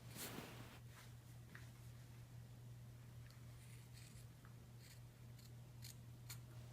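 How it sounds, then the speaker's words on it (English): Scissors snipping through excess scarf fabric, a series of faint, sharp cuts at irregular intervals over a low steady hum in a quiet room. "Now just cut off all the excess material."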